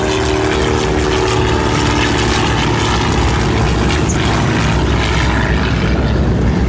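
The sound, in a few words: Fairchild PT-24 primary trainer airplane propeller engine flying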